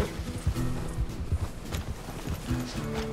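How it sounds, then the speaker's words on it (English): A horse in the Red Dead Redemption 2 game clip-clops along at a walking pace in the cold outdoors, with steady hoof beats at close range and faint tonal game sounds in the background. "Better hitch up the horse, actually."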